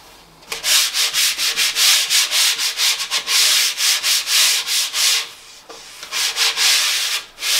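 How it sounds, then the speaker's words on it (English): Rapid rhythmic rasping of worn 80-grit sandpaper rubbed back and forth by hand over melamine, loud and close, in quick regular strokes with a brief pause near the end. "this is a worn down bit of 80 grade sandpaper, so I'm just gonna give this a light sanding"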